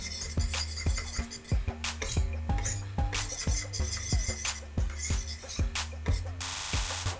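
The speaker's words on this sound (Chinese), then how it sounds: "打1粒鸡蛋在里面，然后搅拌均匀" A fork or whisk beats an egg and water mixture in a bowl, giving a quick, steady run of close clinks and taps against the bowl's side for several seconds, with no talking.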